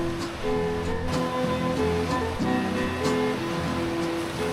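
Angels Creek in Angels Camp runs beneath a footbridge, giving a steady, close rushing wash of flowing water with constant broadband churn and no breaks, heard alone without voices.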